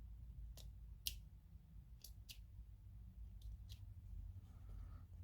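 Scissors snip tough Fireline beading thread in a quiet room, a handful of sharp, close, crisp cuts spaced unevenly, with no speech.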